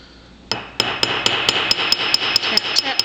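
Hammer tapping rivet wire, a close, steady run of about a dozen light, bright metallic taps at an even quick rhythm, with no talking.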